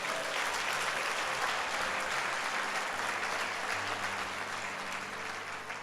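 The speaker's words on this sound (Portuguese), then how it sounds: "Alguém quer aplaudir Jesus?" A Sunday church congregation breaks into sustained applause for Jesus, a thick wash of many hands clapping, steady and fairly distant, with faint low background tones beneath.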